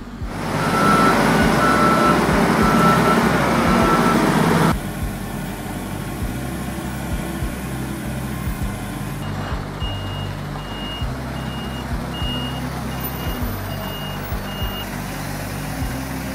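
Scania 8x8 G490 marble trucks on a winding mountain road, heavy diesel engines rumbling loudly at first and then more softly, while steady repeating reversing beeps pulse over the top, with no voices.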